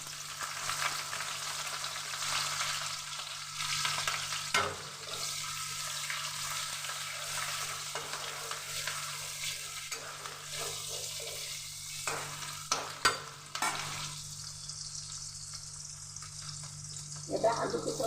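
Sliced onions and raw green chillies fry in hot oil in a pan after fish, a loud, continuous sizzle broken by scraping stirs and small clatters, close up throughout.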